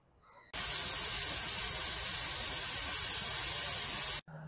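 A heritage steam train on the North Norfolk Railway gives off a sustained, loud, steady hiss of steam lasting several seconds, then cuts off abruptly.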